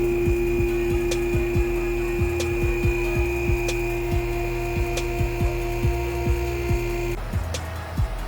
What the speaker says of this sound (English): I'm gonna raise the vehicle up.